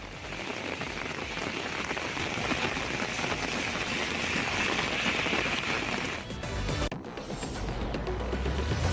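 Heavy stormy rain pours down in Anekal in southern Karnataka, a loud, close, unbroken drumming of rain on surfaces that shifts and thins briefly toward the end.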